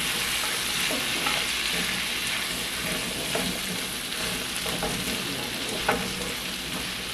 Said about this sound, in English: I'm going to allow these flavors to simmer here